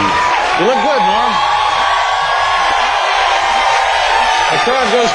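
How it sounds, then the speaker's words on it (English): A studio audience at a late-night talk show cheers and whoops loudly and continuously as a comedian guest walks out, with a voice shouting over the roar. "The crowd goes crazy."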